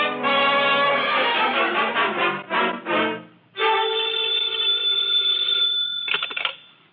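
An old-fashioned telephone bell rings loudly in two long bursts with a short gap between them, then stops after a brief final jangle. The ringing is close and clear with no voices.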